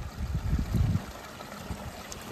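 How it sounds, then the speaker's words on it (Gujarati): A small, cold mountain stream runs down from high peaks through dense forest near Rajgunda, babbling in a steady low wash with no voices over it. "કેવું ઝરણું છે જો, ખળખળ કેવો સરસ મજાનો અવાજ આવે છે, ઠેઠ ઉપર પહાડમાંથી આવે છે"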